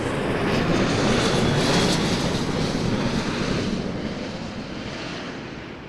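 Jet airliner roaring loudly on takeoff from runway 05 at Toronto Pearson Airport at night, a broad rushing engine noise that stays strong, then gradually fades as it climbs away.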